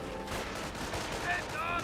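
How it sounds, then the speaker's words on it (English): A mortar shell hits in the video game Company of Heroes, producing faint rattling blasts and gunfire-like crackle within a busy battle mix, with a brief tonal game cue near the end. "Great mortar hit there."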